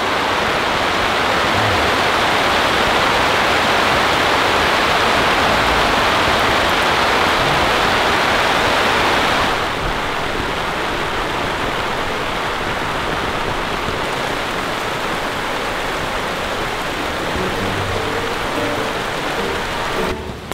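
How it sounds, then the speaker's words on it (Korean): Heavy rain pours steadily onto a camping tarp in a dense, hissing roar, easing slightly partway through but continuing without a break. "빗소리 좀 듣고 계세요"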